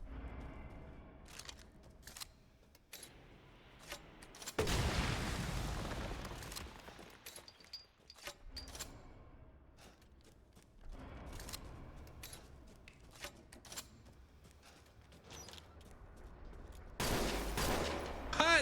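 Gunfire in the horror game Resident Evil Village, a few loud blasts set apart by quieter stretches of clicks and ambient game noise, with a heavy burst close to the end.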